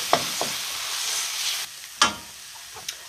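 Vegetable korma with garden vegetables stirred in a pan, a few distinct scraping strokes of a utensil against the pan over a steady soft sizzle, close and fairly quiet.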